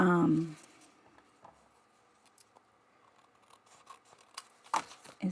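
Scissors trim scrapbooking paper with a few quiet, crisp snips and paper rustles near the end, following a brief burst of voice at the start.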